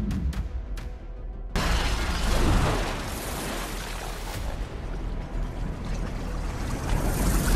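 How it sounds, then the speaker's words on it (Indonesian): A few sharp clicks, then a hand grenade explosion bursts out in a movie and settles into a sustained roaring, crackling rumble with no speech. "granat itu jatuh tepat di dalam Omega dan meledak"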